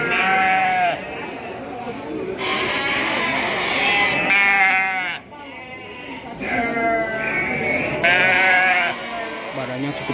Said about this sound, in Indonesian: Domba siap pijah.